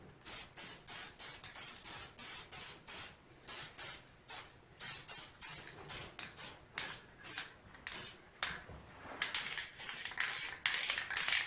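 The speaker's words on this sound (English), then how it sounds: "so I'm not spraying my camera with this lacquer" Short bursts of lacquer spray from an aerosol can hiss in a steady, regular rhythm, close and fairly quiet, with no voices.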